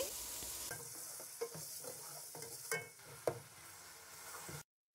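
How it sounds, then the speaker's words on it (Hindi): Garlic ginger paste fries with cumin in a pan, giving a soft steady sizzle broken by a few spoon scrapes and taps, close but quiet, ending in sudden silence, with no talking. "लहसुन डालने के बाद हम इसको 1 से 2 मिनट फ्राई कर लेंगे।"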